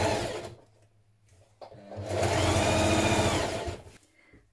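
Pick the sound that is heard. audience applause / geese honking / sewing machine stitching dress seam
sewing machine stitching dress seam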